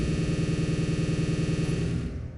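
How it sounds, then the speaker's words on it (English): A Homeworld Kushan Scout weapon fires in the Space Engineers game, a rapid, evenly pulsing electronic burst at moderate volume that repeats for about two seconds and then fades away. "Like that's the sound of the Kushan Scout when it fires."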